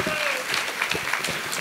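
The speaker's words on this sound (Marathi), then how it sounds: "पुन्हा एकदा जोरदार टाळ्या वाजवा" An audience at a birthday felicitation ceremony claps in a dense, even burst of applause that fills the short stretch.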